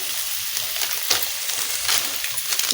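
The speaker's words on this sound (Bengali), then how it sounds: "আলুটা কি সুন্দর করে কষাই নিচ্ছি" Cut potatoes sautéing in a pan, a continuous close sizzle and crackle with light stirring scrapes and no talking.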